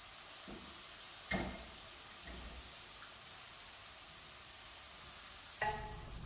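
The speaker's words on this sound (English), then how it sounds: "So you can see our fish is in the oil and it's slowly frying" Fish fries in oil with a soft, continuous sizzle, broken by a couple of brief clinks or scrapes.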